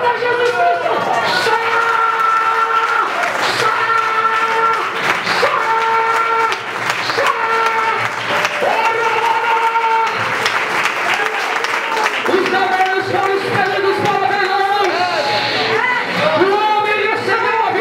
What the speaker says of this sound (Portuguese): levanta a mão, igreja, e aplauda Jesus Cristo.